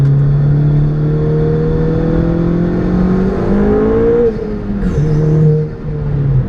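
Stage 5 Ford Fiesta ST200 accelerating hard from inside the car, a loud engine drone climbing in pitch through the revs, dropping at a gear change around the midpoint, then pulling up again.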